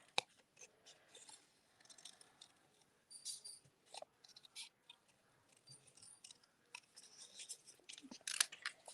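Scissors fussy cutting around a piece of stamped paper in a crafting session, with faint, irregular snips and paper rustles scattered through a quiet room, close by but soft.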